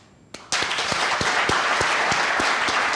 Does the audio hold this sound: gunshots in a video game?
no